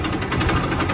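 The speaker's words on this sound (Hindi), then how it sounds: "ट्रैक्टर मशीन चल रहे हैं" Tractor engines running at a mud-loading site where a JCB 3DX loader fills Messi 241 DI and 1035 DI tractors: a continuous, close, rumbling idle with a fast mechanical throb and no voices.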